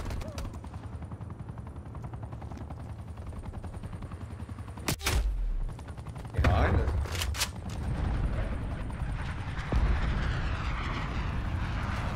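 A gunship aircraft drones overhead in the Call of Duty Cold War game, with a steady engine rumble. Bursts of heavy gunfire and impacts break in near the middle, and a voice talks at times over the noise.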